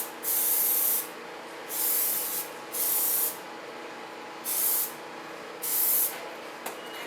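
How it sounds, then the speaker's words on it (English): Spray coating applied to Halo 5 cosplay armor in five evenly spaced hissing bursts, each roughly half a second to a second long, separated by short pauses in an otherwise quiet room. "I'm just going to spray it on, because I'll be smoothing it out in the second two layers"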